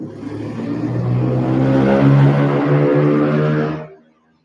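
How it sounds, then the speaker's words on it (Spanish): A motorcycle passes by outside, its engine drone swelling loud and steady for a few seconds before fading away abruptly. "Ahí pasó una moto, se escuchó mucho ruido."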